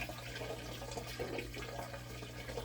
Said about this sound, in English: I'm trying my best to pour it so that it doesn't hit the sides.